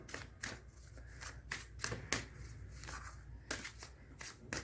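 Tarot cards are shuffled and drawn by hand, giving a quiet series of crisp riffling flutters and soft slaps in an irregular rhythm, heard up close with no talking.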